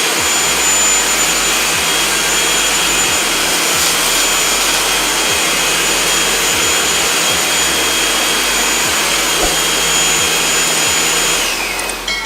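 Two upright vacuums, a Kenmore DS1030 and a Eureka RapidClean Pro, run together in a loud, steady whine with a broad hiss and high-pitched tones, holding constant before winding down at the end.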